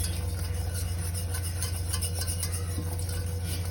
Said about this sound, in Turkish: iyice şöyle bir çırpıcı yardımıyla hiç topak kalmayacak şekilde çırpmaya devam ediyoruz.